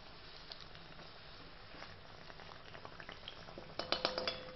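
Aloo bonda potato vadas frying in oil in a pan, a faint soft patter of bubbling with light clinks of utensils growing louder toward the end.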